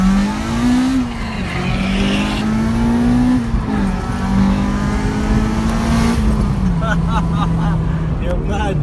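Honda Civic Type R engine climbing steadily through the revs during a race against a BMW 335d, with brief dips at gear changes, loud and close, under some talk.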